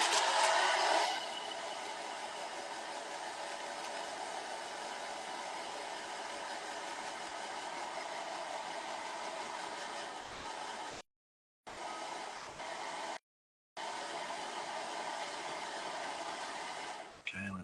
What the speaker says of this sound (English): then I'm gonna dry this with a hair dryer.